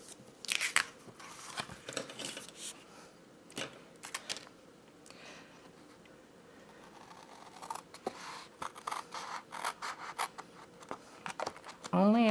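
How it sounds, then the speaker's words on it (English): Scissors cutting through card stock while making a small gift card box, with several short snipping and rustling strokes spread through the clip, close and fairly quiet, partly under a voice. "This line right here and this line need to be cut only up to the middle."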